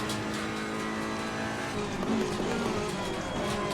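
A race car brakes hard downhill into a hairpin in Assetto Corsa Competizione, its engine note dropping under loud, steady mechanical roar with faint tire noise, close and continuous.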